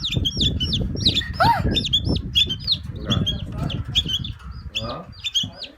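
Many caged birds, including bulbuls, sing at a busy bird market, with a chorus of repeated sharp chirps and tweets and some wing flapping, while people talk underneath.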